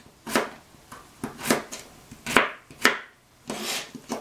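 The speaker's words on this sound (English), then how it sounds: "So I cut it like this, then I slice it, and then I cut across." A knife cutting radishes on a board, eight or so distinct crisp chops spaced unevenly, close and fairly loud, each with a short woody knock.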